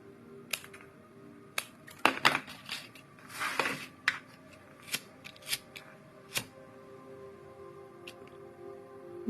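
Scissors snipping macramé cord for a beginner bracelet, a string of sharp close clicks and snips spaced irregularly, with a small rustling flurry in the middle and no talking.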